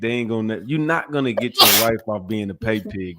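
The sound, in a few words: person sneezing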